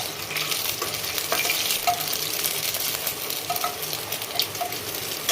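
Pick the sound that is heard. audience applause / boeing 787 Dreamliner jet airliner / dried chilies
dried chilies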